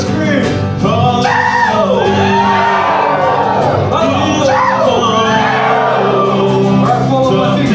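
A crowd of audience members screams and whoops together on a performer's cue at a Samoan village cultural show in Hawaii, a loud, sustained mass of overlapping shouting voices with children's yells mixed in throughout.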